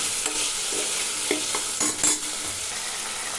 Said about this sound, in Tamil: சுவைக்கு தகுந்த மாதிரி சால்ட் சேர்த்துக்கிட்டு வதக்கும்போது